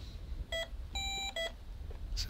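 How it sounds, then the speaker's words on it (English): A machine beeping in an apple orchard, a short tonal beep followed by a longer sustained tone and another short beep, clear and fairly close, with no talk. "So it's still beeping."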